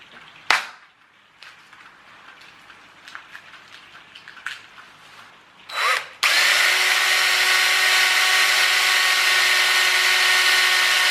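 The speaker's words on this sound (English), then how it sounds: "So I'll drill a hole straight down through there, big enough for a bolt" A power drill runs continuously for about five seconds, boring a hole for a bolt through a small camera mounting clip, loud and close after a few scattered handling knocks.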